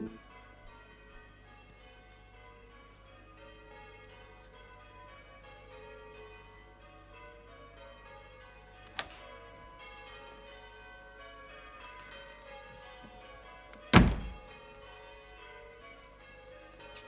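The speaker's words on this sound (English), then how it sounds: "The church bells have started ringing." Distant church bells ring softly in a quiet room, their tones hanging steadily in the background, with two sharper knocks or clicks cutting in partway through.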